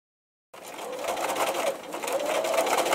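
After half a second of silence, a sewing machine starts stitching a small apron for an 18-inch doll and keeps up a close, steady running hum to the end.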